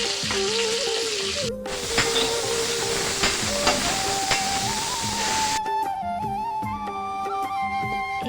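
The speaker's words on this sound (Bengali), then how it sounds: "তাই প্রথমেই মুগের ডাল ভেজে নিব" Mung dal fries in a kadai with a steady, hissing sizzle and occasional stirring scrapes. Background music plays throughout the clip.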